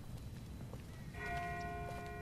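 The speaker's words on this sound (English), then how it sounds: "That's not the same bell as before. This one's further off." A faint, distant bell in The Walking Dead video game, its sustained ringing tones entering partway through over a dense low rumbling background.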